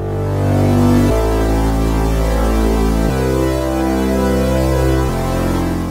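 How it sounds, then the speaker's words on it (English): Synth sawtooth waves stacked as thick super saw chords with a pad and an aggressive saw bass, loud sustained chords changing about every two seconds, buzzy and dense, with no speech. "This could be a super saw, which is used to voice thick chords, a pad, which is used to fill up the atmosphere, or even a saw bass"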